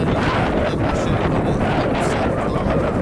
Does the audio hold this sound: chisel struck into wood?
no